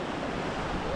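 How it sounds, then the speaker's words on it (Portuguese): Sea waves wash at a beach ramp in Arraial do Cabo, a steady close rushing surf with some wind noise on the microphone. "Hoje tá com um pouquinho de onda, mas pouca correnteza."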